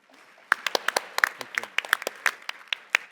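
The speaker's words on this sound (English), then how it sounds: "Ladies and gentlemen, a big round of applause to the panel." Sparse applause from a summit audience after a panel session, individual claps standing out in an uneven, thin patter for a few seconds, with a voice faintly underneath.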